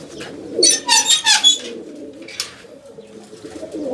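Chinese-breed pigeons in a loft coo and call. A loud cluster of calls comes early, and a softer call follows over a quiet room background.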